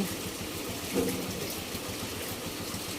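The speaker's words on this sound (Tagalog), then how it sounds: "at hindi pa rin po natigil ang ulan" Steady rain falls along a river during a wet outing to set bamboo traps, a dense continuous wash of broadband patter holding even and moderately loud throughout, with no speech over it.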